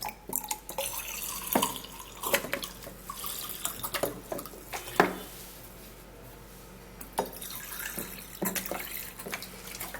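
Warm water poured into a cup, heard as soft, intermittent trickles and small splashes with brief drips, fairly quiet and close, with no voices.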